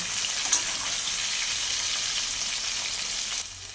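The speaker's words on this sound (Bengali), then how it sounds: "দিয়ে সব কিছু ভালো করে ভেজে নেব" Diced potatoes, pointed gourd and soaked soya chunks fry in a pan with a steady, dense sizzle that holds nearly unchanged throughout and eases slightly at the very end.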